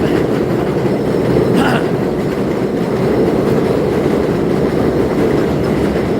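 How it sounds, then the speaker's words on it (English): A train passing in Bensonhurst, Brooklyn, fills the scene with a loud, continuous rumble and steady clickety-clack of wheels on rails, close by and unbroken throughout, with no talking. "Here we go for another train."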